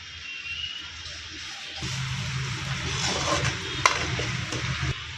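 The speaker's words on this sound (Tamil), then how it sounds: "வெங்காயம் வந்து இப்போ ஒரு அளவுக்கு வதங்கிச்சு இன்னும் நல்லா வதங்கணும்" Onions sautéing in a pan for fish curry, a soft, close frying hiss with occasional stirring scrapes and a brief clack, fairly quiet and without talk.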